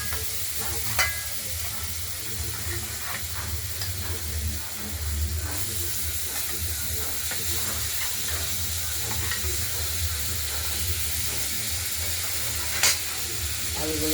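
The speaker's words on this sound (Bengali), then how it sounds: "গরম তেল কেটে রাখা আলুগুলো আমরা ভেজে নেব" Cut potatoes fry in hot oil for a rohu fish curry. A constant close sizzle runs throughout, broken now and then by light clicks and scrapes of stirring.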